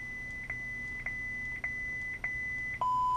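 Lightsaber volume menu tones: five short, evenly spaced high beeps over a faint steady hum, followed by a lower, longer tone that marks full volume.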